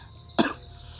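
A single sharp cough from a man with a lingering illness, close and abrupt, lasting under half a second against a quiet background.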